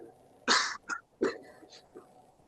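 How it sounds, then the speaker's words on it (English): A few short, harsh coughs from a speaker at a thesis defense podium, close by, with brief pauses between them against a quiet room. "I'm gonna cough. I'm sorry."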